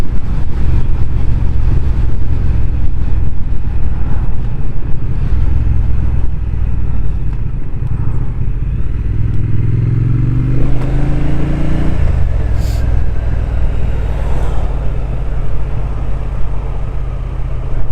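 A Triumph Speed Twin 1200 motorcycle engine being ridden along a narrow lane: a steady, loud engine drone with wind rush throughout, pitch rising briefly as it accelerates midway before settling back.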